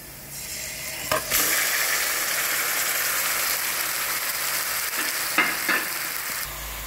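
Marinated chicken tipped onto browned onions in a hot pan sets off a loud, steady sizzle with a couple of brief clatters, continuous and close.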